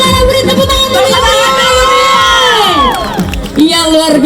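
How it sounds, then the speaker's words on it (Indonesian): A large audience at a Nusantara bridal make-up competition with 55 contestants cheers and shouts loudly, whoops and yells rising over steady clapping, with a loud announcer-style voice ringing out through the din. "Beri tepuk tangan dulu ya."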